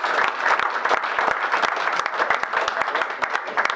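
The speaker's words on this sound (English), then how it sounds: "I think you should give yourselves a round of applause" Applause from a gathering at a community flood friendship trophy event, a modest crowd clapping with distinct individual claps audible throughout, steady and close.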